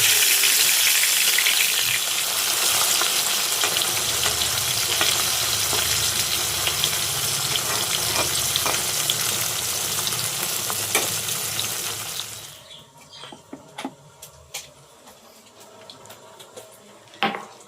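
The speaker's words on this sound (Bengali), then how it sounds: "মাছগুলো ফ্রাই করছি।" Fish fry loudly in a pan with a dense, continuous sizzle and occasional stirring clatter, then the sizzle cuts out abruptly near the end, leaving quiet scattered clicks and pops.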